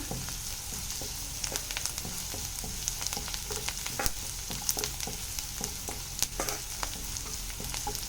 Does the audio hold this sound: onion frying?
yes